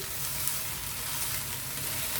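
Spinach sizzles and crackles in a hot pan as it is stirred, a steady bright frying hiss with small pops throughout and no voices.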